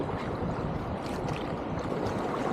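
Surf waves wash steadily around a kayak paddling through the surf at Nauset Marsh, a continuous broad rushing hiss with gurgling water, close and even in level, with no talk.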